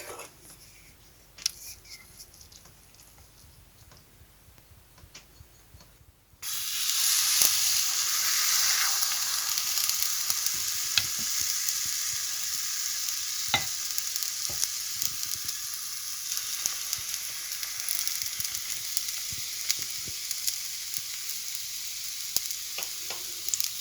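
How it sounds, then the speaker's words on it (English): Pancake batter frying in oil in a frying pan starts as a strong, steady sizzle after a few seconds of quiet clatter, then keeps hissing loudly with occasional taps and scrapes. "we're going to take some scoops of our mixture and pop it in"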